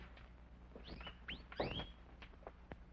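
Small birds chirp in a few quick rising tweets, close but soft over a low hum, with a short burst of louder twittering in the middle.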